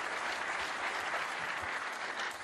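Sustained applause from a snooker crowd at the 2023 World Championship first round, Mark Allen against Fan Zhengyi, a dense steady roar of clapping filling the hall without a break.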